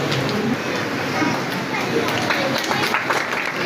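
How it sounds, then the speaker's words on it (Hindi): Continuous applause from an audience at a student award ceremony, a steady wash of many hands clapping with crowd murmur throughout. "जोरदार तालियों के साथ"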